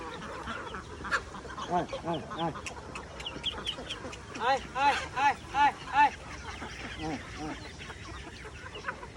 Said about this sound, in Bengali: ওই যে হাঁসগুলোকেও দেন।